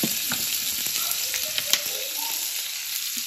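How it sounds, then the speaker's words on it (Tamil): Cut coconut pieces fry in ghee with a steady, close hiss of sizzling, broken by a few light clinks and stirring sounds, and no one speaks. "இப்போ தேங்காயை வறுத்து இதில் கொட்டிக்கலாம்"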